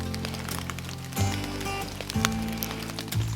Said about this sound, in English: I don't even mind being out here in the rain. It's raining today.